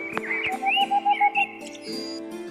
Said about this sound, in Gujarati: ઘુવડ એ નિશાચર શિકારી પક્ષી છે તે કેવી રીતે અવાજ કરે તે જોઈએ